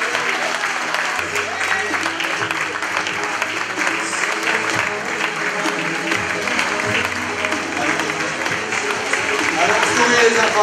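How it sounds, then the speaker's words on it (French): Audience applause for children at a local event, sustained crowd clapping running throughout with cheering voices and talk mixed in underneath. "Trois mini-rois, bravo, vous pouvez les applaudir."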